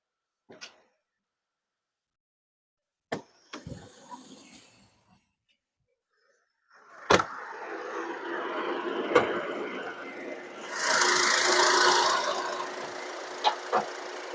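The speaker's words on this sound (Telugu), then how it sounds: "ఫస్ట్ నేను ఇంజన్ స్టార్ట్ చేసి మరి నేను చూపిస్తాను" Several sharp clicks and knocks, then the engine of a 2016 Ford EcoSport Titanium starts up and settles into a steady running rumble that grows louder for a while before easing.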